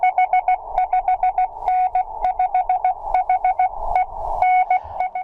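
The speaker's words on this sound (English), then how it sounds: "Continuous wave propagation is Morse code." Continuous-wave Morse code from ham radio, steady clean beeps in rapid keyed groups of dots and dashes, loud and close with no talk.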